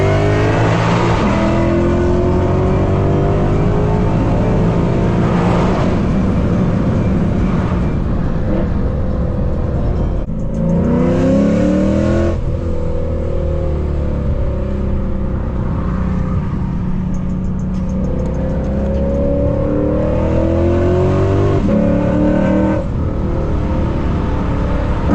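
A loud Lexus RC F with an FBO setup and tune accelerates hard, its engine roaring steadily through repeated upshifts with rising and falling pitch sweeps across the whole stretch, close to the microphone.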